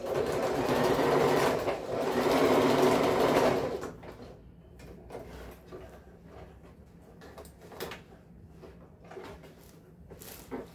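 A sewing machine runs in a fast, steady whir while stitching the lining of a thermal lunch bag, about four seconds of continuous sewing, then stopping and leaving soft handling clicks and fabric shuffling.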